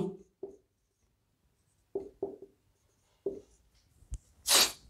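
Chalk or marker taps and scratches across a board in a physics lecture in short separate bursts, a few quick strokes with pauses between, followed by a longer breathy hiss near the end.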